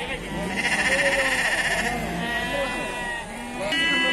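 Lambs and sheep bleat repeatedly at a livestock market in Beylagan, with quavering calls rising over a busy crowd and people talking nearby.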